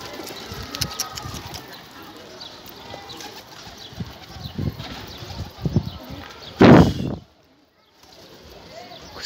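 Pigeons coo softly in an outdoor setting, low repeated murmurs scattered through the background while someone talks nearby, ending with a brief louder burst before falling silent.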